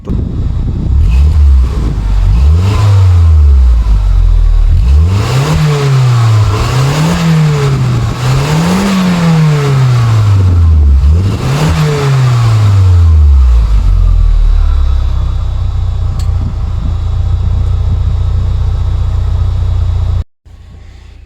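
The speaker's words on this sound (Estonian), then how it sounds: "Paneme väikse revtšeki ka või?" An Audi TT mk1 engine is revved repeatedly from idle, rising and falling in five or six sharp, loud sweeps before settling into a steady idle, then cutting off abruptly.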